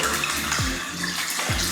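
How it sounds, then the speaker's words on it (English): Water splashes at a bathroom sink as someone rinses their face, with a steady running-tap rush and two quick cupped splashes, close and fairly loud. "I'm gonna wash my face now."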